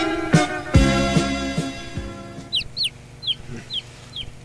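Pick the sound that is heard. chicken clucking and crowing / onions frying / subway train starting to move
chicken clucking and crowing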